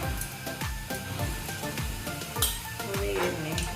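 Mustard seeds and cumin crackling and sizzling in hot oil for a Gujarati chora-potato curry, an even sizzle over rapid popping with a few louder pops.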